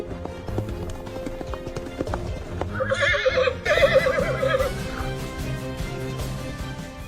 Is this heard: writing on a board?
no